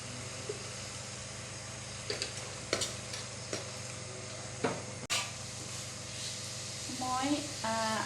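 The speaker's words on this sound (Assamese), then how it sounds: "মই আদা নহৰুখিনি ভাজি হালধি আৰু জিৰা গুড়ি দিলোঁ" Ginger-garlic paste with turmeric and cumin powder frying in hot oil for an Assamese kuchia (swamp eel) curry: a steady close sizzle with a few sharp spoon scrapes and clinks against the pan, and faint background voices.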